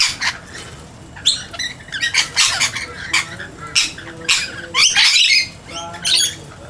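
A newly formed flock of birds squawks and screeches in overlapping harsh bursts, close and loud, as they sort out their pecking order.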